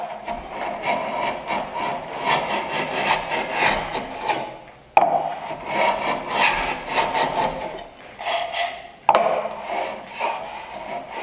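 Hand plane shaving wood on a miter jack, repeated long rasping strokes in a steady rhythm, three passes broken by brief pauses, close and fairly loud with no talk.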